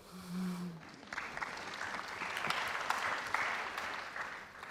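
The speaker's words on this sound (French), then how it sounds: "Je vous laisse applaudir." Audience applause breaks out after a lecture, a steady wash of many hands clapping that swells and holds for several seconds with no talk over it.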